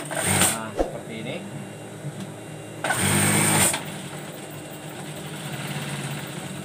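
Sewing machine stitching bias tape around a fitted sheet, heard in two short close whirring bursts with quieter handling and speech between them.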